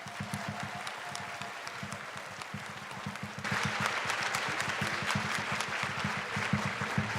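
An audience applauds to welcome speaker Rashida Stevens at an evening event, with steady, dense clapping that swells louder halfway through and carries on to the end.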